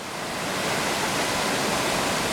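Hopetoun Falls in the Otways of Victoria, a waterfall of about 20 to 25 metres, roaring as a dense, steady wash of falling water, loud and continuous with no voices.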